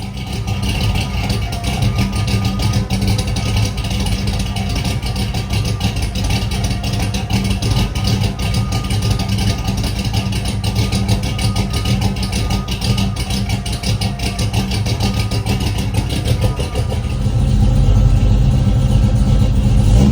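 A newly installed car engine with welded under-axle exhaust runs steadily and loudly throughout, holding a constant rumble with a slight rise in intensity near the end as it is revved.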